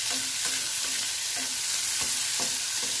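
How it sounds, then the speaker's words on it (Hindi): Vegetables for chilli potato frying in a pan, a constant loud sizzle with a spatula scraping and stirring at irregular intervals, no voices. "ये मैंने सब्जियां डाल दी हैं और इसको कर रही हूँ थोड़ा सा फ्राई"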